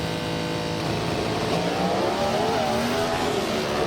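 Drag racing cars launching and accelerating hard on a drag strip during a cash-prize race, a loud continuous engine roar with rising revs, no talk.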